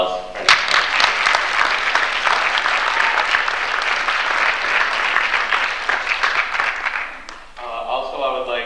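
An audience at a school winter sports awards ceremony applauds a coach, with steady clapping for about seven seconds that tapers off before a voice resumes speaking.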